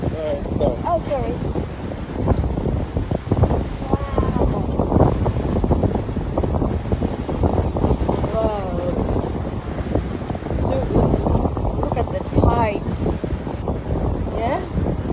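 Strong wind buffets the microphone without a break on the beach at Wollongong, with surf rumbling beneath it. A voice exclaims briefly over the roar.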